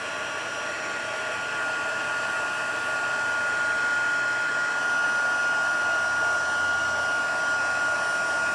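A heat gun blows steadily to melt embossing powder for heat embossing over background stamps. Its close, continuous whirring hiss holds an even level throughout with no talking.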